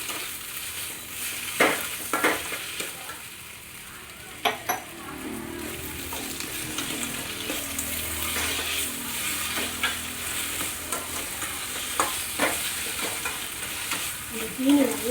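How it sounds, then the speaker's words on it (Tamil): Milk-soaked bread being stirred and fried in a pan for bread halwa, with steady soft sizzling and occasional scraping and clinks of a spoon against the pan. "இந்த ப்ரெட்டு பாலில் ஊறின ப்ரெட்டை அதில் போட்டுருவேன்"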